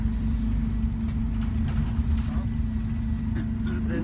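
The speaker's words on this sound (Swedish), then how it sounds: "Nu sitter vi på bussen på väg in mot Göteborg." A low, constant engine drone and road rumble fill a bus interior on the way to Gothenburg, with a faint murmur of voices and small rattles above it.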